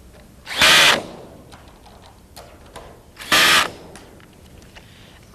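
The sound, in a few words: cordless power drill fastening pool bolts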